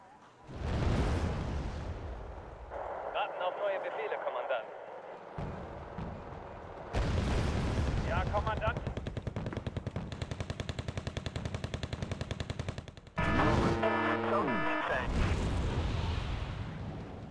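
Mortar fire, gunfire and explosions from a combat video game roar in loud successive bursts, heavy booms followed by long stretches of rapid automatic cannon fire, with a voice talking over them.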